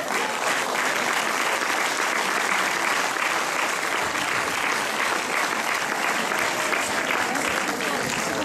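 Sustained, dense applause from a large crowd at a village festa major, with a steady, even roar of many hands clapping throughout and no break.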